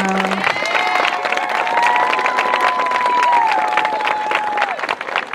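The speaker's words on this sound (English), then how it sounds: "applause" Crowd at the Miss Medford Lakes pageant breaks into sustained applause with cheering, and a held tone rises and falls through the clapping before it tapers off.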